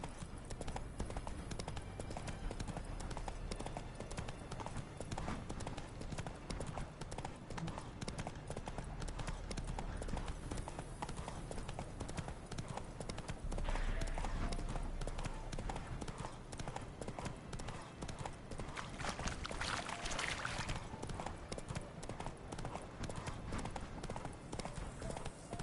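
Hooves of the horse Roach clip-clop steadily and continuously in The Witcher 3, a constant rhythmic trot under a busy game soundscape, with a brief louder swell midway and faint speech in the background.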